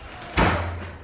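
A single sharp clack of a door lock or latch being worked in a newly moved-into house, close and loud, followed by a short low resonance.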